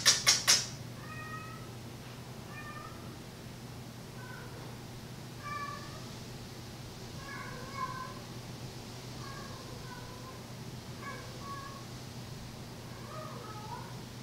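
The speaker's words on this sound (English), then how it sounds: "Sorry if you hear her meowing in the background." A cat in heat meows repeatedly in short, plaintive cries at a moderate distance over a steady low hum, with a few sharp knocks at the start.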